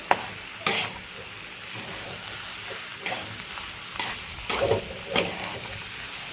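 Vegetables with chopped coriander are stirred in a pan over a soft sizzle, with a few distinct scraping strokes of the spoon spaced a second or so apart, close and clear.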